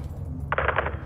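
A short burst of rapid automatic gunfire in the Call of Duty Modern Warfare II game, about five quick cracks in half a second over a low rumbling background.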